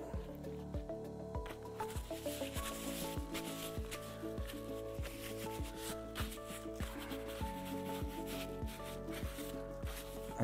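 Greasy hands being wiped with a single shop towel, a steady soft rubbing and scrubbing that runs throughout over a continuous musical background.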